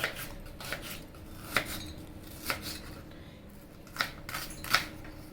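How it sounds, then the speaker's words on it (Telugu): A knife cuts onions into thin slices in a home kitchen, landing in sparse, crisp strokes on a board with gaps between cuts and light handling noise. "ఇప్పుడు ఉల్లిపాయలు కూడా ఇలా సన్నంగా కట్ చేసుకోవాలి"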